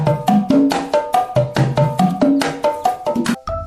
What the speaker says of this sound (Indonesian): Gendang atau kendang adalah alat musik tradisional Indonesia